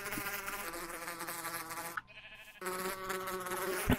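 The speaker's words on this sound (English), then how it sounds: "Stop your buzzing! Get out of here!" Continuous high-pitched insect buzzing in a video game, loud and steady, with a brief drop in the middle before it resumes just as strongly. No speech.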